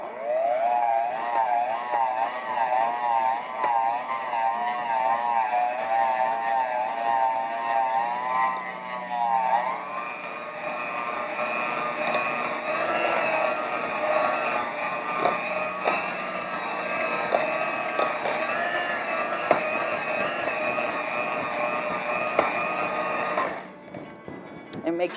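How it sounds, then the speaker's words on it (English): Mixer whirring through no-bake cherry cheesecake filling, a steady mechanical drone whose pitch wavers as the beaters work, running under someone talking, then cutting off near the end. "you have to keep blending until it gets smooth"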